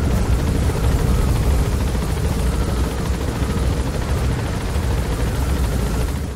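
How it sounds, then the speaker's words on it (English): Helicopter in Metal Gear Solid 5: The Phantom Pain, a loud continuous rotor roar and engine rumble that dominates throughout without talk. "Because there's always a helicopter that needs to be shot."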